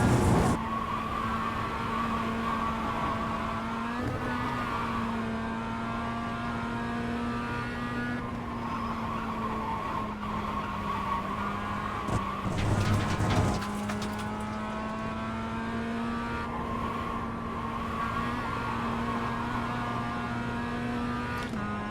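A car in a racing video game drives with a steady droning engine note and shifting pitch, with a brief burst of tyre-skid noise from oversteer midway through. No one talks.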